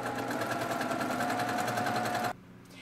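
A sewing machine runs at steady speed stitching quilt blocks for a table topper, a loud, close, even whirring hum with rapid needle ticks that stops abruptly near the end, leaving quiet room tone.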